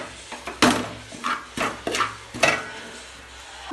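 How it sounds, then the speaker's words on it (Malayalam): A spoon stirs tapioca biryani masala with coconut in a pan, giving several close, distinct scraping strokes at an uneven rhythm over a faint background sizzle. "നന്നായി ഇളക്കി കൊടുക്കുക."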